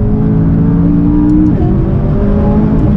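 A McLaren 570S sports car engine drones steadily and loudly from inside the cabin while accelerating through canyon roads, with a brief pitch dip around a gear shift before the tone climbs again.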